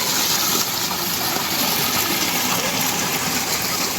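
Steady, loud rush of water pouring through an irrigation channel on a farm, a continuous broadband roar with no pauses or voices.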